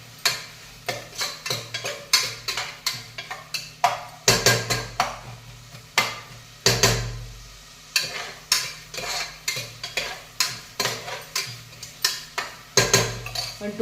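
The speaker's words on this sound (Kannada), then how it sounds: "ಒಂದು 2 ಮಿನಿಟ್ಸ್ ಫ್ರೈ ಆಗಲಿ ಅದು" Onions frying in a pan for chicken donne biryani are stirred with a metal spatula, producing repeated rhythmic scraping strokes and clinks over a steady sizzle, close and fairly loud.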